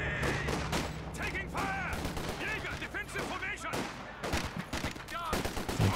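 Anti-tank gun and small-arms fire in a real-time strategy video game battle, a dense stream of shots and bursts throughout, with a voice talking over parts of it.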